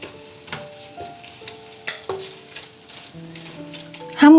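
Eggplant and kashk sautéing in a pot while being stirred, with soft intermittent scraping and sizzling, fairly quiet, and a louder clatter at the very end.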